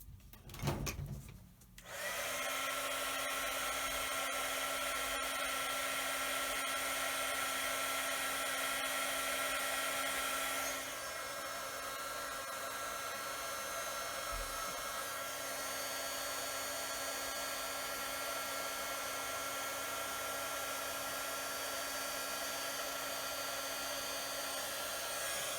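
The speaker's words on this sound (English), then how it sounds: "Let me just heat emboss this really quick." A heat embossing tool blows hot air in a steady, close whooshing hum for over twenty seconds after a brief clatter at the start, with a slight change in tone midway. No talk.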